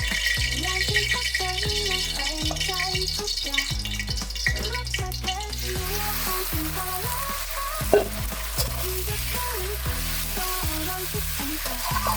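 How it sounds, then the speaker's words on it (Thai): Noodles for rad na, a Thai gravy noodle dish with pork and seafood, are stir-fried in a hot pan, giving a loud, continuous sizzle and frying hiss over scraping and stirring. "ผัดเส้นแล้วนะจะผัดเส้น"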